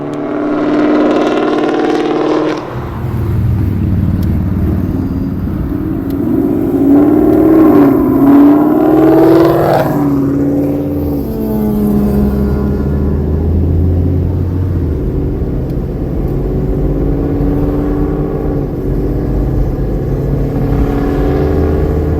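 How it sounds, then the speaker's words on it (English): A Ford Mustang S550 with aftermarket headers, intake and an E85 tune roars loudly, heard from inside the car as the engine revs and climbs through throttle surges, its deep exhaust drone steady throughout. "we're gonna try to get a ride along and just see how loud it is in the car"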